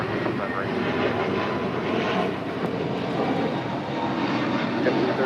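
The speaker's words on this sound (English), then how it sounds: "Now about to touch down is Iberia 6171 coming in from Madrid, Spain on the A350-900" An Iberia Airbus A350-900 arriving from Madrid touches down at LAX, a steady broadband jet roar holding loud and even throughout, with a voice talking over it.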